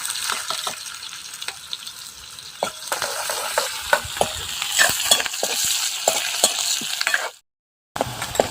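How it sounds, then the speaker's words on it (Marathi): Cumin, garlic and onion frying in oil for a Marathi mixed sprouted-bean vada curry, a steady close sizzle broken by repeated scraping stirs, then a brief silent gap before the sizzle resumes. "आणि जिरं तळून घेते आणि लसूण आणि कांदा पण त्याच्यातच तळून घ्यायचा आहे"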